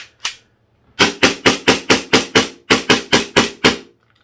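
Airsoft WE DP17 gas pistol fired with a WE gas magazine: one shot, a pause, then a rapid string of about thirteen loud, sharp cracks in two quick bursts, close and alone.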